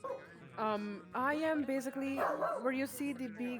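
Several dogs bark and yip in a home in bursts of repeated barks, fairly close and loud, with a person talking over them.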